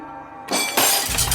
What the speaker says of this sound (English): I do hear windows breaking all around them